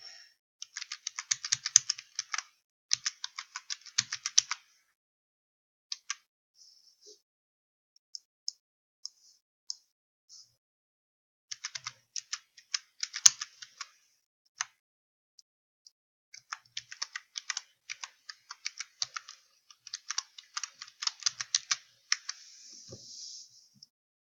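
Login details being typed on a computer keyboard: bursts of quick, light key clicks in several runs separated by pauses, close and clear in a quiet room.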